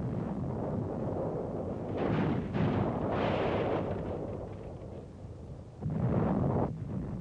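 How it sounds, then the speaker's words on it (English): Heavy artillery shells a church in 1945 wartime combat footage: a constant low rumble with several deep, swelling blasts, including a strong burst near the end. "A church, apparently taken for an Allied OP, comes under heavy Nazi artillery fire."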